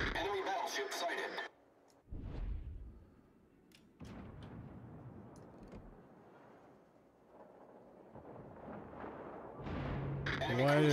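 Naval artillery booms from warship guns in the World of Warships naval battle game, a few heavy broadband blasts scattered through the clip with game radio chatter and a voice talking over them.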